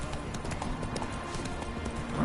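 Roach the horse from The Witcher 3 gallops with quick, rhythmic hoofbeats pounding steadily at close range, a faint music bed and ambience underneath.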